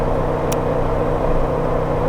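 A supercharged Jeep Wrangler JK Unlimited with a RIPP Gen II Stage II kit labors up a mountain grade at 7,000 feet near 3,000 RPM, a steady, loud droning engine rumble from inside the cabin.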